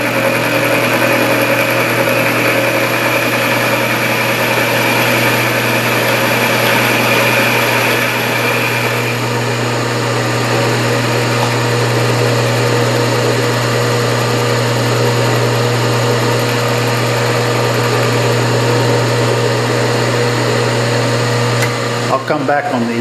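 A metal lathe takes a 20-thousandths-inch depth cut on a scissor knurl workpiece, a loud, steady mechanical drone that holds unbroken for the whole stretch before a brief change at the very end.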